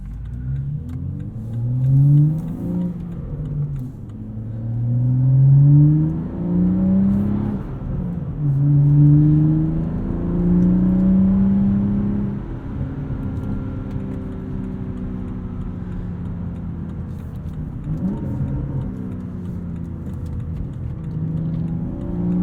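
A modified 2016 BMW 435i with a tune, bolt-on parts and a 6-speed manual revs hard and close, its engine note rising and falling through several gear pulls before settling to a steadier drone.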